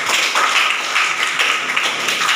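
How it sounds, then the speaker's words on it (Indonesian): A class clapping hands together, a loud, continuous patter of many claps filling the room evenly for the whole moment, close by and unbroken by talk. "Tepuk tangan deh untuk itu."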